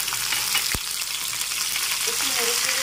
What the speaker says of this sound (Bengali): একটু নেড়েচেড়ে ভালো করে পেঁয়াজের পেস্টটা ভেজে নিচ্ছি